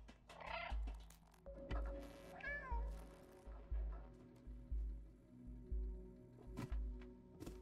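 A cat meows repeatedly in the video game Stray, a run of short, fairly loud mews over a steady low electronic hum and a recurring thump.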